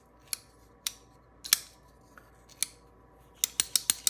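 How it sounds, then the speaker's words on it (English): The button lock of a folding knife clicking and rattling as the blade is worked: isolated sharp metallic clicks, then a quick run of four or five snaps at the end, close and crisp. "It's got that sort of rattly button lock thing that a lot of button locks get"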